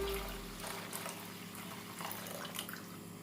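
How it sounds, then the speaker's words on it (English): Water runs steadily into a container for Greek dough made with sugar, flour and olive oil, a soft continuous pouring trickle close by with no talking. "I need 710 milliliters of water"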